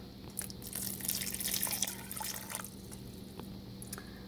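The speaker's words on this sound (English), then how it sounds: "I think I'll add 1 more cup." Water pours from a cup into a pot of red beans, a brief splashing stream followed by drips, close and fairly quiet against a faint steady hum.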